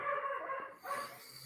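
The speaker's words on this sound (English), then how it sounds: "dogs get really hectic out this way" Several dogs barking outdoors, a steady mid-loud stretch of overlapping barks and yelps with a brief dip near the middle before the barking resumes.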